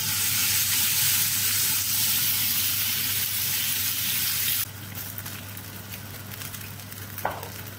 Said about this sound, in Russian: Точно так же я обжарю вторую часть мяса.